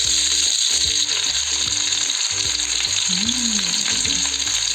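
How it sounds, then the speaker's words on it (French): Sliced onions fry in hot oil in a saucepan with a steady, loud sizzle and crackle throughout, and occasional stirring and scraping sounds underneath. "vous y rajoutez des oignons découpés en lamelles et vous laissez revenir 2 minutes"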